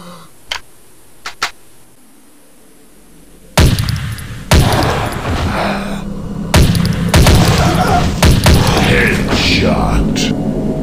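Gunfire blasts at zombies in the mobile shooter Dead Target: a few faint clicks at first, then a sudden run of loud, close shots and booming impacts that pile into a dense, continuous barrage.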